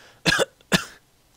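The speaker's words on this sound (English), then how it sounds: "I inhaled, and then coughed." Two sharp, close coughs about half a second apart, the second shorter, followed by near silence.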